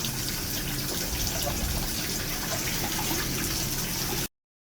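Clothes being rinsed by hand in water until the suds are gone: steady splashing and sloshing close up, fairly uniform throughout, then cutting off abruptly near the end.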